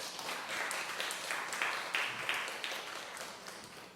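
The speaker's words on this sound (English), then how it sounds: "Please give them a round of applause." Audience applause at a live storytelling night, a steady wash of clapping filling the room at moderate volume, with a few murmuring voices underneath.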